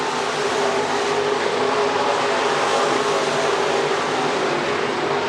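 Stock cars race around Crawford County Speedway, a dense steady roar of several engines heard from a distance, continuous and even across the whole stretch.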